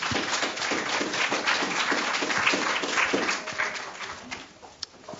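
An audience applauds at a live happening performance, a dense patter of many hands clapping at moderate distance that holds steady and then thins out and fades toward a few last claps.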